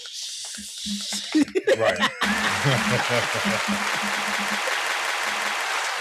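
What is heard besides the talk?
audience clapping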